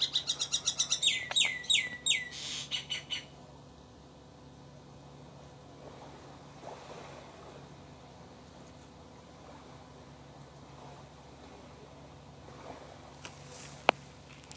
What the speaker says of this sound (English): the birds really like this.